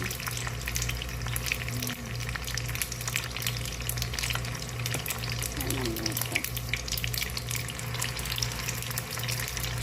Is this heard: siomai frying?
yes